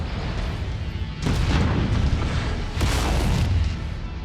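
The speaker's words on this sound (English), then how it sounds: "Alright, the warehouses are destroyed" Warehouses blow up in the video game MechWarrior 5 Mercenaries, with two heavy booming blasts, each a roaring burst lasting about a second, over a constant low rumble of battle noise.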